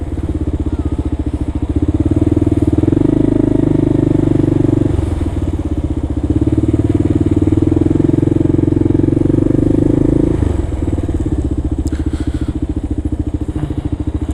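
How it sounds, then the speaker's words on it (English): A scooter engine bigger than 50cc runs loud and close while riding through New York City traffic, holding steady revs in two long stretches with brief dips between them and some clatter near the end. "that's definitely not a 50cc scooter"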